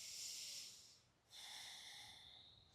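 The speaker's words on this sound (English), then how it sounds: "Breathing." Slow, deep breathing during a gentle yoga session: a long, soft airy inhale, a short pause, then a long hissing exhale, close and quiet, with no talking.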